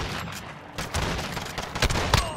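Rapid bursts of pistol gunfire crack out over a noisy video game battle, with several sharp shots clustered toward the end.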